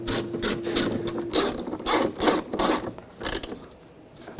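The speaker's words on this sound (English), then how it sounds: "and tighten them down" A hand tool ratchets and scrapes in short repeated bursts while screws are tightened on a 2009-2017 Volkswagen Tiguan side mirror, close and fairly clear, with no talking.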